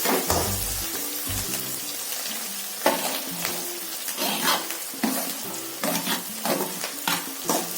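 Onions fry with salt, green chillies and curry leaves in a hot pan, a steady sizzle broken by repeated scraping stirs of a spoon, close and clear, with no talking.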